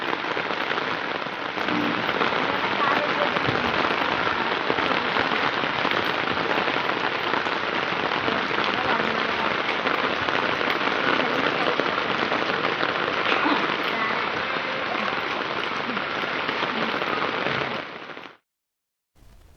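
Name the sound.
heavy rain falling in Hyderabad streets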